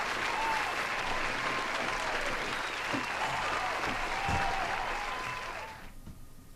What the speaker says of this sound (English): Once again, a nice round of applause